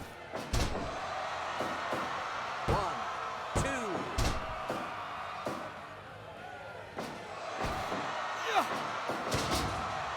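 Wrestlers are slammed down onto the ring mat during a televised wrestling match, giving sharp heavy thuds repeated at irregular intervals. A faint crowd murmur and a commentator's voice run underneath.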